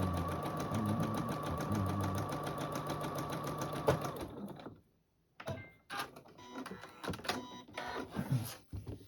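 A domestic sewing machine stitches a poinsettia quilt runner with a rapid, even mechanical whir for about four seconds, then stops, leaving softer handling clicks and rustles close by.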